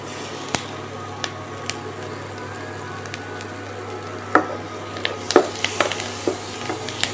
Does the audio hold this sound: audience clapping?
no